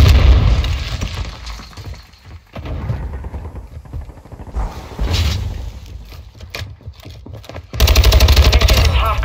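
Loud online Modern Warfare 2 team deathmatch combat: rapid automatic gunfire in repeated bursts mixed with grenade blasts and booms, dense and close throughout, with faint in-game voice callouts.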